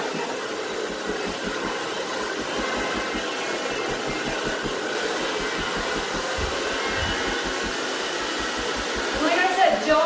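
A hair dryer runs steadily on coarse, layered hair during a styling session, a continuous close whooshing hum with a slight rise in loudness near the end and no talk.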